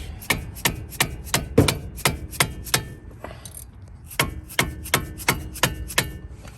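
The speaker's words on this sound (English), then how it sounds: "You don't have to use a wrench. You can use just a regular socket, but I'm just going to use a wrench." A wrench works a 12mm bolt on a Honda Civic during an axle job, giving crisp, evenly spaced ratcheting clicks in two runs with a short pause between, close and clear.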